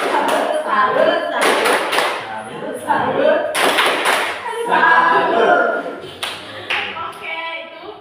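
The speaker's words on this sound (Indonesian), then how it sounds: "Ya, kita berikan tepuk salut untuk Ibu Win ya." An audience claps a rhythmic salute during a school positive-culture session, loud repeated bursts of hand claps with shouting voices mixed in, running continuously with short pauses.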